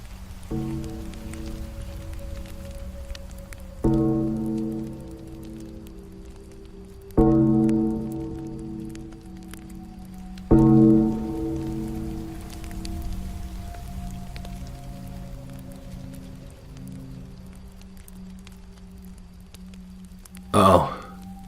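Steady patter of rain beginning to fall at a campsite, a soft continuous hiss running the whole time beneath sustained, slowly struck tonal notes, with a brief sharper burst near the end.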